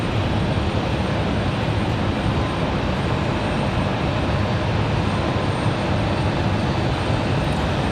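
An airliner departs the runway at Raleigh-Durham International bound for Cincinnati on a windy day, a steady broad jet engine roar, loud and unbroken throughout with no voices.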